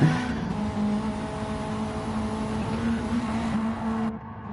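Honda race car in Gran Turismo 7 exiting a corner, engine screaming at high revs and bouncing off the limiter, loud and continuous, with no voices.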